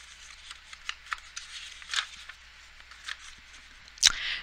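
Paper being folded and creased by hand for an accordion-fold craft, heard as a series of soft, close crinkles and swipes spread across the clip, ending with one louder, sharper rustle near the end; no talking.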